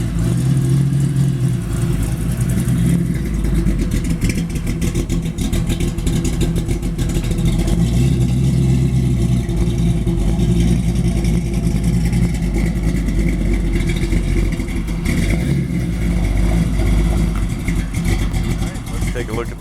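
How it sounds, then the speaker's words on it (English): A 1932 Ford High Boy Roadster street rod, engine still cold, runs steadily with a loud, continuous low rumble at idle and a few swells of revving, with the camshaft lope noticeable throughout. "It also gives you a good idea how the car sounds."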